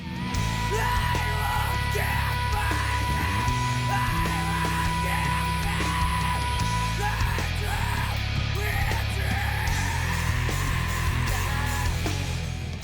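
A grunge rock song pounds on with heavy distorted guitars and drums while a singer screams hard through the chorus, loud and continuous throughout.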